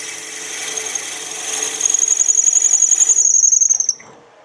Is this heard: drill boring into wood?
yes